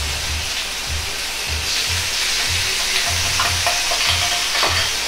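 Pork and garlic chives sizzle steadily in a frying pan as seasoning sauce goes in, a continuous loud crackle with soft, regular low thumps from stirring, no voices.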